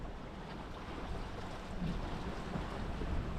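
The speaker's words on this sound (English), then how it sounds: "Wind's up to 13 now, so I must have shamed him into it." Wind blowing steadily across a sailing boat underway off Scotland, a loud continuous rushing roar with buffeting on the microphone and the wash of waves beneath.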